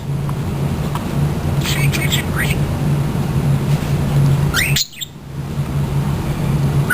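Pet cockatiels and a budgie give loud, scattered squawks and chirps over a steady low hum, with a short dropout partway through, while someone seems to talk nearby.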